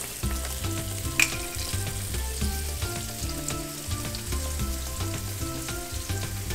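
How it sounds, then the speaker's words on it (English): Yellowtail snapper fries in a pot of oil and butter, giving a steady, close sizzle with a brief louder pop near the start. Music with a rhythmic bass line plays underneath throughout. "Add some little bit of oil because there's already butter in the pot."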